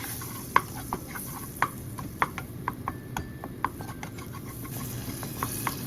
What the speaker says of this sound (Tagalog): Lulutuin po natin yung ating all-purpose flour dito po sa ating mantika at saka sa ating butter.